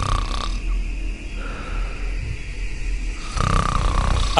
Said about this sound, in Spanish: se desplomó y empezó a roncar como si llevara horas en profundo sueño